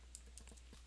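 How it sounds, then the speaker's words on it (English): A short, quiet burst of keyboard typing, several quick key clicks close by. "Oh, some very bad typing."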